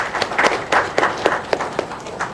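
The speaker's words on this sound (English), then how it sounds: "So big applause to Dr. M.K. Pandaren Sethi." Scattered audience clapping at a pre-conference event in a hotel, honoring a doctor: soft, uneven claps with a loose rhythmic pulse and a roomy, moderately distant sound.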